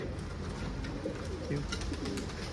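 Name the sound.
pigeons cooing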